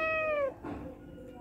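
A single drawn-out cat meow, close and clear, falling in pitch before a softer, shorter follow-up sound, with no talk.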